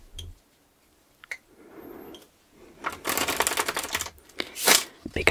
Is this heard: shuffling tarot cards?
yes